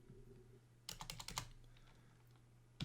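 Someone types on a computer keyboard, a quick cluster of close keystrokes followed by a pause and then one more tap, faint over a low steady hum.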